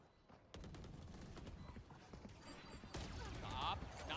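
Rapid gunfire bursts in the tactical shooter Valorant, sharp repeated shots in quick clusters with a faint mechanical clatter, a commentator talking over them.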